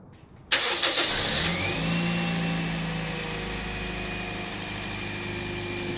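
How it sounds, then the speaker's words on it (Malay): Cold start of a high-mileage car that has logged about 500,000 km: a sharp cranking burst catches into a loud engine flare, then settles into a steady, close idle, with no talking. "Okey, ni nak cold start."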